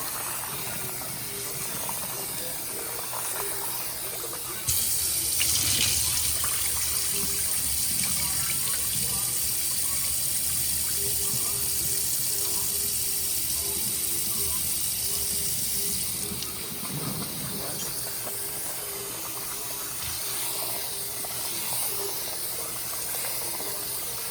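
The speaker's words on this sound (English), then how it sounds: "Not everyone always wash their rice, but I like to wash the rice. So I just rinse it around like that." Tap water runs while white rice is rinsed in a kitchen sink. A louder gush surges in for about ten seconds, then softens to a lighter trickle, with faint clinks and sloshing close by and no voices.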